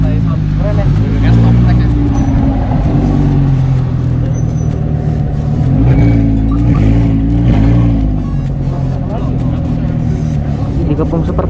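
Supercars, including a Lamborghini Gallardo, rumble past in traffic with a loud continuous engine drone, while voices talk excitedly over the noise.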